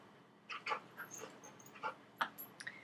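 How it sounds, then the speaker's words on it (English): Dog making small whimpering yips and whines in a quiet indoor room, several short faint squeaks scattered irregularly, close but soft. "If you hear some noise in the background, that's my dog sitting here"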